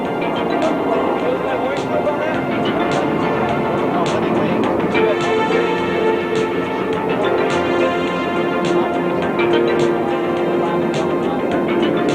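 A military jet makes a high-speed low pass at about 500 knots and 500 feet at the 1986 NAS Moffett air show, a loud, steady engine roar that fills the scene while a voice talks over it.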